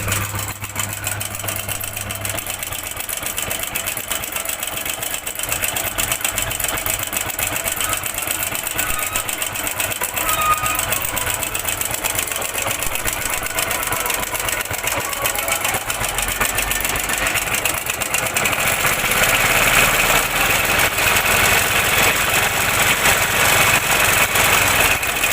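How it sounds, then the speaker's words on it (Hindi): A Hero Honda Splendor Plus motorcycle engine idles steadily with a rapid mechanical ticking and rattle from a noisy timing chain, loud and close, running continuously without speech. "इंजन का आप साउंड सुन सकते हैं कि क्या चीज़ का साउंड है।"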